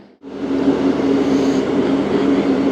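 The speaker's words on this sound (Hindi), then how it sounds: "11:08 पर दोस्तों खानपुर रेलवे स्टेशन अराइवल हुआ है ट्रेन का" Tezgam passenger train pulling into Khanpur railway station, a loud steady rumble of wheels and carriages that rises suddenly after a brief quiet and holds throughout, with no voices.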